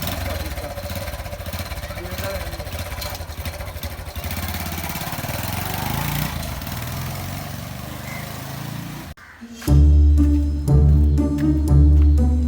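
A motorcycle engine runs with a steady, buzzing rumble, then shifts to a louder, deeper throbbing roar near the end, while voices are heard around it.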